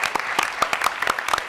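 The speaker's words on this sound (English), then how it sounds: "give yourself a round of applause" Audience applause at a White House social event: a burst of many hands clapping in a dense, steady patter, fairly close and continuous throughout.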